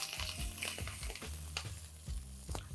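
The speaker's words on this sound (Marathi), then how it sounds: "इथे 15-20 कढीपत्त्याची पानं छान फोडणीला देऊया." Cumin, green chilies and curry leaves sizzle and crackle in hot oil as a tempering for a corn, spinach and pearl millet pulao, with close, steady frying and brief stirring bursts.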